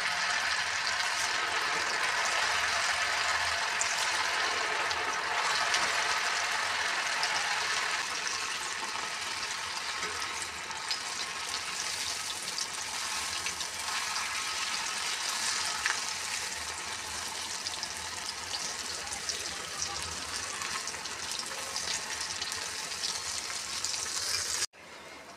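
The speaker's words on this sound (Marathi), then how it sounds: "आपण आता इथं आपलं तेल छानपैकी तापलेलं आहे, वेळ न गमावता आपण वडे टाकू" Sabudana vadas deep-frying in hot oil over a medium gas flame, a steady, loud, bubbling sizzle that holds for the whole stretch with no voices and cuts off abruptly near the end.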